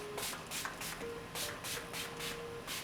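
A Wet n Wild Photo Focus Natural Finish setting spray bottle, cap off, is shaken close by in a quick series of about eight rhythmic rattling strokes.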